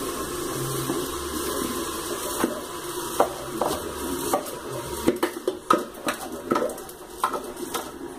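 Grated carrot and onion stirred in oil in a pot, with scraping and clinking of a utensil against metal over a soft sizzle, irregular knocks growing busier.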